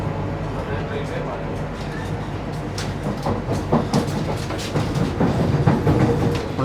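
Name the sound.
Vande Bharat Express train leaving Kollam station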